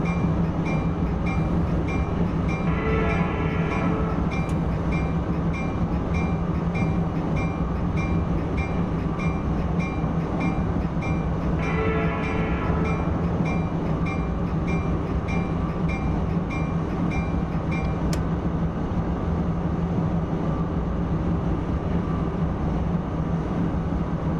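A simulated passenger train on the Northeast Corridor between Washington DC and Baltimore in Train Sim World 2021 slows under braking, with a steady, loud rolling rumble and two brief higher-pitched squeals partway through.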